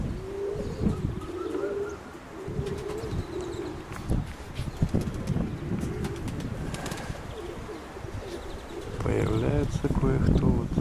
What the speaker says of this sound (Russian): Появляются голуби, конечно, ребята